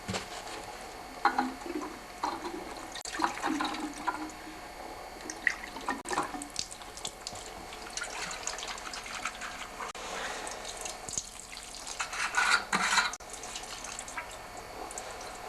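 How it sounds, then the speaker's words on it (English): Fuel sloshes and splashes inside the gas tank of an older Briggs & Stratton 3.5 HP engine, close and continuous, with gurgling pours and dripping over about fifteen seconds. "I'm going to pour a bit of fuel in the gas tank and some gas over here as well"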